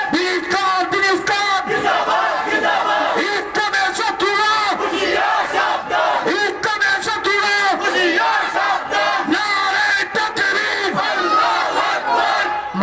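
A large crowd at an Islamic religious sermon loudly chants takbir in unison, repeated rhythmic roaring cries that fill the space continuously for the whole stretch.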